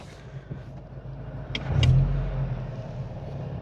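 A Volvo 240 engine runs steadily while driving, with a low mid-range drone that swells briefly as it pulls, heard close from inside the car with no talk.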